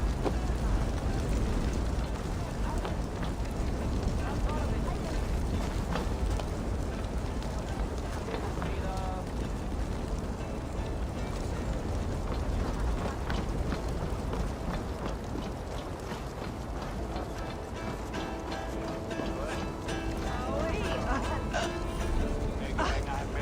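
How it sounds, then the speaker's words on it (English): Fire burns and crackles in a noisy, continuous roar in Assassin's Creed Valhalla, with wind-like rushing and a voice heard over it. "Help! Fire! Save my food, it burns!"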